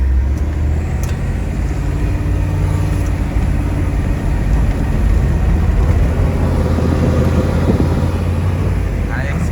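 Diesel Ford Highboy truck in four-wheel drive pushing through snow, a loud, steady low engine drone heard from inside the cab, continuous and rumbling throughout.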